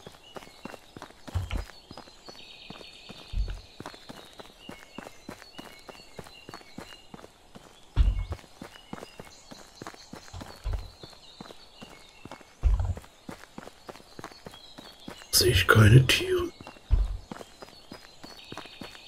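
Footsteps tramping through the world of the medieval game Medieval Dynasty, a steady run of crunchy steps with a few louder thuds and one sharp burst, while someone briefly speaks.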